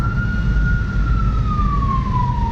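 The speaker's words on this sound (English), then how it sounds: "Whoa, is it an ambulance?" An ambulance siren wails steadily, its pitch slowly dropping as it passes, over the low rumble of road and engine noise from inside a moving car.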